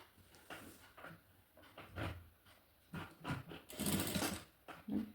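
A sewing machine stitches thread piping on a garment in short, uneven bursts of mechanical whirring. The sound is fairly quiet and close, with pauses between runs.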